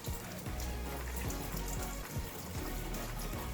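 Warm water pours steadily from a household tap into a sink, a continuous splashing hiss with small irregular drips and gurgles, close by and with no one talking.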